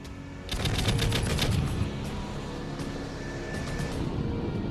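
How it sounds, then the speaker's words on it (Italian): A rapid, loud burst of warning fire from an aircraft cannon rattles out early on, then gives way to a steady rumbling background with a few fainter pops. "Spara una raffica di avvertimento."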